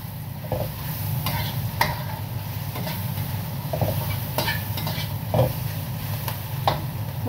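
Vegetables stir-frying in a pan for curry bihon, a steady close sizzle with spatula scrapes and stirring clicks repeating throughout.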